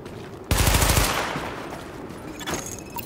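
Automatic weapon fire at highlighted targets in the video game The Division: a loud rapid burst of gunshots lasting about half a second, then fading reverberation and a second, fainter shot, with no talking.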